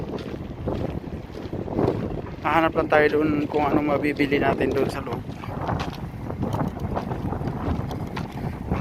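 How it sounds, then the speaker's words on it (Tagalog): Strong wind from a sandstorm in Kuwait, blowing outside a Grand Hyper supermarket, roars as steady, gusty noise over the microphone while someone talks throughout. "Malakas ang hangin, no?"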